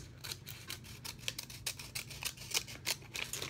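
Scissors cut open a sticker package with a quick run of crisp, close snips that repeat steadily for a few seconds over a low hum, with no talking.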